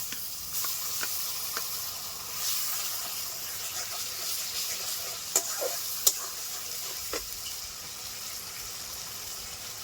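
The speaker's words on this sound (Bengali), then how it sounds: "পেঁয়াজটা ভাজা ভাজা হয়ে আসছে।" Steady sizzling of chopped onions frying in a pan, a continuous bright hiss with occasional louder pops and crackles, no voices.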